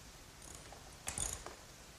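Ratchet clicking as carriage bolts on a workbench vise nut are tightened, a short burst of quick mechanical clicks near the middle, close but faint, with quiet room tone around it.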